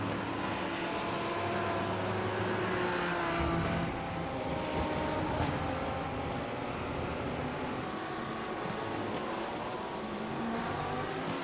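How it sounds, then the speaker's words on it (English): A Lamborghini race car in the iRacing video game passes by during a 12-hour endurance race at Barcelona, its engine a steady, loud drone with shifting tonal whine running throughout amid other cars' engine noise. "This Lamborghini passing me now"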